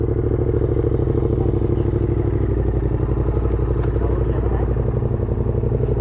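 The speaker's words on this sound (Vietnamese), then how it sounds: "cho mấy anh lớn, mấy anh nổ máy trước chứ xe mình êm quá" A Yamaha R1 2022 motorcycle engine runs loud and close with a steady, throbbing low rumble and some clattering, while voices talk faintly underneath.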